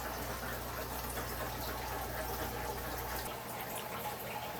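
Tap water runs into a fish tank during a water change in a fishroom, a steady, continuous rushing gush that holds at an even level throughout.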